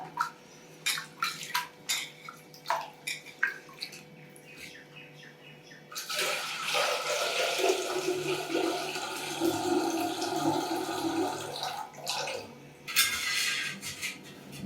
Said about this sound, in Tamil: ரெண்டு தண்ணி ஊற்றி இப்படி கலந்து பண்ணிக்கோங்க நல்லா.